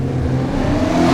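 BMW 340i engine in the game Assetto Corsa revs loudly and close, a steady mid-pitched roar that builds slightly over a brief moment, with no voices.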